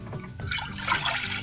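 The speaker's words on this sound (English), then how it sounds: "1/3 to 1/2 of this water out of the pitcher and into a saucepan" Water poured from a pitcher into a saucepan at a stove, a steady splashing trickle that builds slightly and continues throughout, close by with no talk.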